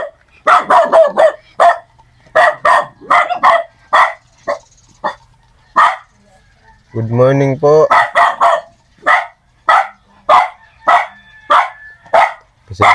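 Dog barking at a quiet family house, repeated sharp barks in bursts throughout, close and loud, with a rooster crowing in the middle and a brief spoken greeting.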